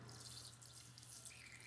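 Water being pushed out of the turning compartment of an Air Hogs Dive Master remote-controlled miniature toy submarine, a steady faint hiss and trickle like a running tap with a low hum beneath, continuous throughout.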